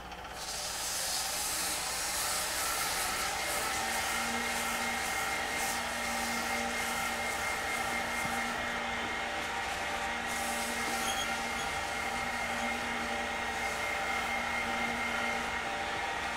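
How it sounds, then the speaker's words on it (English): Wood lathe spinning steadily while turning a pen blank, a continuous loud hissing whir with a faint tonal hum, unchanging throughout with no voices. "Well, if you could hear it over the lathe."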